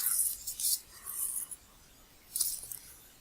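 Thread drawn through the third hole of a bookbinding signature during Romanesque sewing, heard as three quiet, hissing rubbing pulls separated by short pauses.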